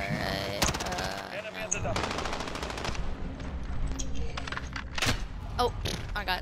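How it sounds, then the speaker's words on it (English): A shotgun blasts repeatedly in a Call of Duty Modern Warfare match: loud sharp shots spaced a second or so apart, with mechanical clacks and thuds between them. "I'm using my shotgun, bro."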